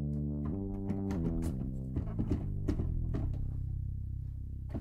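A cinematic bass synth patch plays a low melodic line with legato slides gliding between notes, with deep sustained tones and a few punchy attacks, heard alone.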